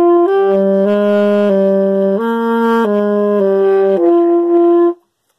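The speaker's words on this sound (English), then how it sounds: "this is how you do the Halo 5 theme song on the alto saxophone." A single alto saxophone plays a slow melody of sustained notes, clear and close, stepping between pitches before stopping abruptly.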